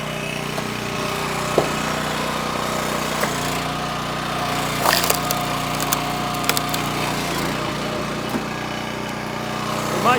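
A gas-powered log splitter works through a flared butt log, its small engine droning steadily underneath while wood cracks and splinters in sharp bursts, with brief voices in the background.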